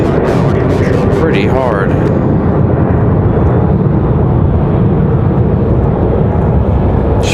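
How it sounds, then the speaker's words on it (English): An Embraer E175 jet airliner departs Raleigh-Durham International Airport, a loud, steady broadband engine roar that fills the whole clip, with a person talking over it early on. "That was the best departure of the day right there"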